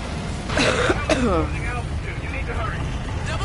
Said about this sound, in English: Sorry for the cough, guys.